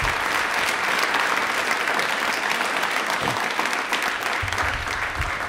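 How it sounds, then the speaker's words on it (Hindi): A crowd claps vigorously during a quiz event, a thick, even wall of applause that holds steady for several seconds with a few low thumps mixed in. "अपने लिए ताली एक बार जोरदार बजा दीजिए"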